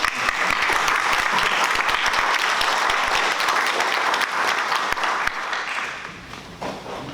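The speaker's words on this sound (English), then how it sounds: "I'd like to invite you to join me in just a round of applause" Audience applause for local councillors at a Teddington, Hampton Hill and Fulwell community meeting: steady, dense clapping from a sizeable crowd, sustained and fairly loud, thinning slightly toward the end.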